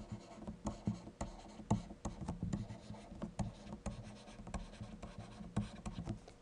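Pen or pencil writing a fraction by hand, heard as close, steady scratching strokes in short bursts with brief pauses between them, with no one speaking.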